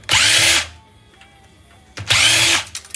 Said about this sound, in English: let's start pulling out a few more screws